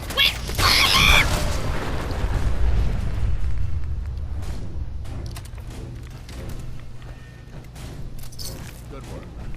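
A mini nuke detonating in Fallout 4, a heavy booming explosion with a long rumbling tail and scattered debris crackles fading over several seconds.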